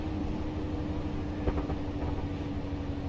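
A Class 57 diesel locomotive runs steadily in Train Simulator Classic, a continuous low engine drone and rolling rumble with a sustained hum and a single brief clank midway.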